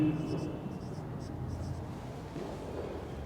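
Pen scratching out an accounting entry by hand for an income and expenditure exercise, a soft continuous scribble with short strokes near the microphone, while a voice talks over it.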